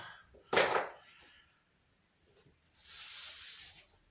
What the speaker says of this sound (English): we put some masking tape just on the floor